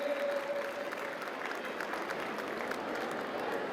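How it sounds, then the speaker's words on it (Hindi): A crowd claps at the opening of the Delhi Olympic Games 2024 for the young athletes, sustained dense applause from many hands at an even level, with a faint tone briefly underneath early on. "एक बार मेरे युवा खिलाड़ियों के लिए जोरदार तालियां बजा दीजिए"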